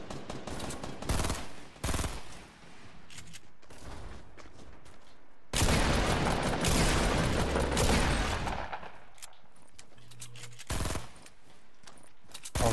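Rapid gunfire bursts crackle in Fortnite duo play, coming in several loud, close volleys with short gaps and a long sustained stretch of shooting in the middle.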